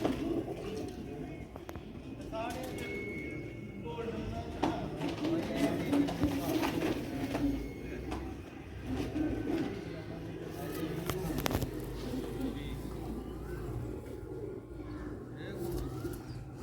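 Pigeons coo on a rooftop loft in Sialkot, a soft repeated low cooing under nearby talk, with scattered rustles and clicks.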